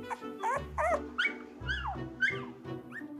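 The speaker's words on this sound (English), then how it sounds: "Loving mom Bridget is quick to answer her puppy's call and swoops in to the rescue" A young puppy whimpers and yips for its mother, a run of high, wavering cries and squeaks, close and clear with short pauses between calls.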